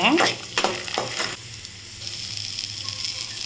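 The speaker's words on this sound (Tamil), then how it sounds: "ஜீரகம் இதெல்லாம் சேர்த்து நல்லா வதக்கிக்கோங்க ஒரு பொன்னிறமாக வதக்கி எடுத்துக்கோங்க" Cumin and spices sautéed in a pan until golden, with a few loud spatula scrapes and clanks at the start settling into a steady soft sizzle of frying oil, close and free of speech.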